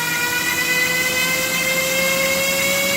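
A small electric motor on a Hobbymate D6 Elite power meter whines steadily at high speed, a loud continuous tonal hum with layered harmonics and no pauses.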